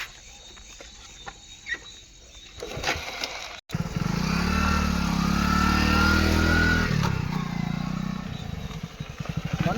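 A motorcycle engine runs nearby, rising after a short gap into a loud, steady droning rumble, then easing down as it idles toward the end.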